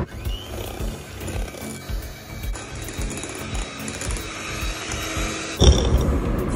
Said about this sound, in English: And we'll whisk again.